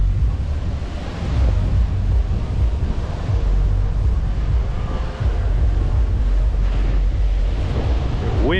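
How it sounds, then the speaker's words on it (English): Strong wind buffets the microphone on South Fort Lauderdale Beach in Florida as ocean surf rumbles steadily beneath, a loud continuous roar with no talk. "Windy"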